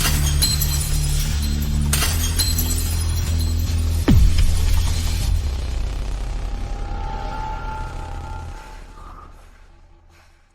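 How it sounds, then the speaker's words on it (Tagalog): A drinking glass of milk shatters loudly over a low droning music bed, with a sharp crash of breaking glass near the middle followed by a slowly fading ringing tail. "Dahil basta nabasag ang baso."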